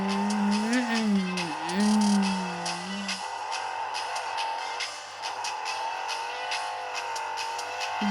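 A car in the video game Creative Destruction drifts, its engine whining and shifting pitch at close range while tires squeal, a steady motor drone continuing throughout.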